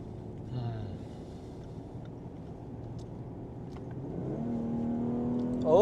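Naturally aspirated car engine revving during a night drive, a moderate drone under the cabin that climbs sharply in pitch toward the end as the revs rise.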